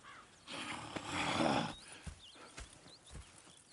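Horses in Red Dead Redemption II: a short burst of snorting and movement, then scattered hoof clops and faint birdsong in the background.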